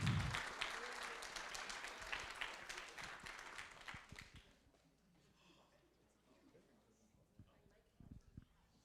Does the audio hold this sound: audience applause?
yes